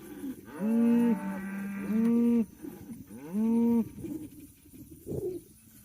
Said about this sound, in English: We've got a bunch of happy cows